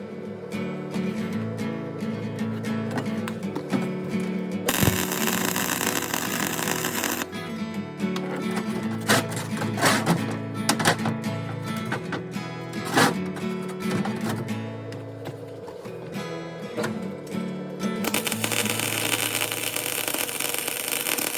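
Scrap rebar and mesh are welded together for a camp pots-and-pans rack, with a steady crackling, buzzing arc that runs continuously and swells in loud broadband bursts, close up and without speech.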